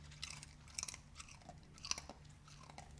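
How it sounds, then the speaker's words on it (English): A dog chews something crunchy close by, with quiet bites and several sharp crunches scattered over a few seconds against a soft background hum. "Can you hear that crunch?"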